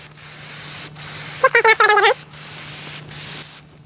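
Spray gun hisses steadily and close while a wet final coat of paint goes onto a Lexus LS 400, broken by brief pauses, with a short muffled tonal sound in the middle.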